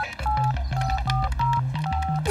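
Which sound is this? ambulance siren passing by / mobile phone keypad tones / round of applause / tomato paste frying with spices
mobile phone keypad tones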